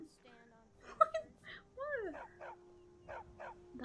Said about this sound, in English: I'm trying to pet the dog